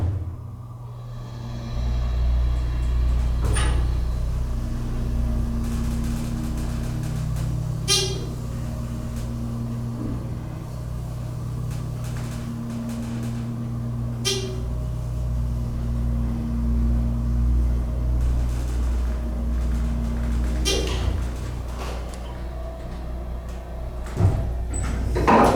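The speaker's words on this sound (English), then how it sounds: "This thing has a very nice motor going up. It's dry powered." A 1996 Dover Impulse hydraulic elevator's dry-type motor running as the car goes up, a low steady hum and drone that holds throughout, broken by a few sharp clunks and clicks of the car and doors.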